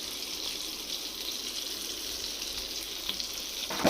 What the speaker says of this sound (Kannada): ಸಾಸಿವೆ ಹಾಕ್ಕೊಳ್ಳೋಣ.